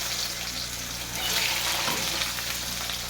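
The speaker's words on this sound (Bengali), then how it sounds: "আমলকিগুলো তেলে দিয়ে দেবো" Amla, Indian gooseberries, go into hot oil with panch phoron and dried red chillies, producing a loud, dense, continuous hiss of frying that swells slightly midway, close by.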